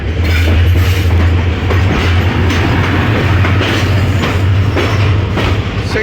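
Steady loud rumble of a moving Pakistani passenger train, the Karakoram Express hauled by a ZCU 20 locomotive, with faint rhythmic clickety-clack of wheels over rail joints throughout and no talking.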